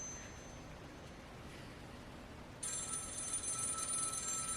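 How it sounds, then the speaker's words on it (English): A telephone rings indoors, faint at first and then a louder, steady electronic ring that fills the second half over quiet room noise, with no talking. "Evelyn Rose, could you grab the phone, please?"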